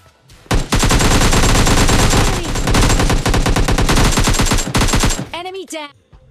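Loud, sustained automatic spray from an M416 rifle in PUBG Mobile Lite, a near-continuous stream of rapid shots for about five seconds, ending abruptly with brief ringing tones.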